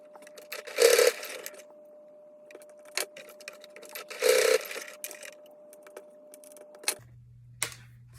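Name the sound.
sewing machine stitching edge of micro bag keychain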